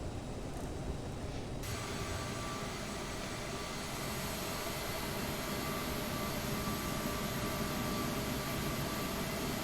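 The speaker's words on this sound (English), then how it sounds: "Here comes a 7-4 taxiing." Boeing 747 taxiing in a flight simulator game, heard as a loud, steady broadband jet roar with a high whine that holds continuously throughout, no voices.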